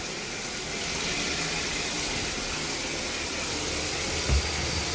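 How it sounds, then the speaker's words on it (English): Water runs steadily from a bathroom sink faucet and drains away, a constant loud rushing wash with a brief low thump near the end and no voices. "we just like to run a lot of water through everything, making sure all that water is draining through"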